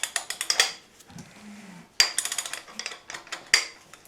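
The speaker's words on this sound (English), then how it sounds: "Now, if I turn it over, I might be able to hear that fuel pump pumping." Rapid, repetitive metallic clicking and ticking from a fuel pump working as a Ford flathead V8 engine is turned over, two bursts of quick pulses separated by a brief pause, close and fairly loud.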